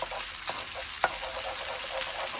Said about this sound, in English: we're literally just going to scramble this egg straight into the mix